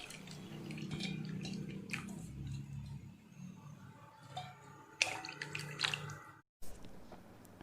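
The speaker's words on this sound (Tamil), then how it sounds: "இப்போ புளி கரைசல் சேர்க்க போகிறோம்." Tamarind water poured into a simmering Chettinad crab gravy, a continuous wet splashing and bubbling with squishy stirring textures, louder bursts near the end, then a brief silence before it resumes.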